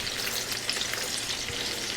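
Cutlets fry over low heat in a pan, giving a steady, even sizzle with faint crackles throughout, close and alone without any talking.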